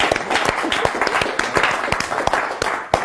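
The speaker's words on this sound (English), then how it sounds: "Give them a round of applause." A round of applause from an audience, with many close, crisp individual claps ringing out in a lively, uneven burst that keeps going at fairly high volume for a few seconds.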